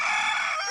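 A rooster crows in a single loud, near call that holds steady for under a second, with no other sounds around it.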